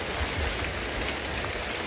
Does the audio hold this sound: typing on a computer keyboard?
no